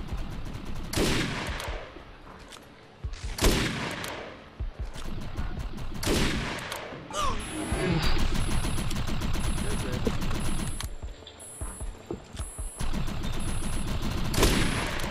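Sniper rifle gunfire in the video game Defiance, several loud, sharp cracks spread across the stretch with echoing tails, mixed with other combat noise, beeping tones and a person talking between shots.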